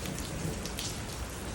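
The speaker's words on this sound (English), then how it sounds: "The storm is making the rain." Rain falls steadily during a thunderstorm, a continuous soft hiss of drops with a low rumble beneath, heard briefly and at moderate distance.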